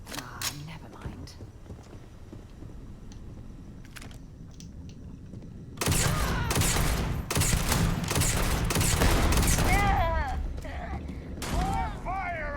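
Rapid bursts of gunfire from a console shooter game crackle loudly in dense volleys, with sporadic shots early on before a sustained barrage takes over, while voices call out over the action.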